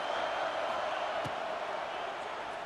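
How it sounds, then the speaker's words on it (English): Home stadium crowd in a college football video game roaring as the defense faces third down, a steady, dense wash of cheering that holds at an even level throughout, with a single faint thud partway through. "Here comes this home crowd as the defense tries to get off the field on third down"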